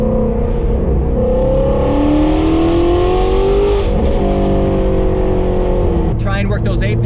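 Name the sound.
Shelby GT350 Wide-Body car with Kooks exhaust driving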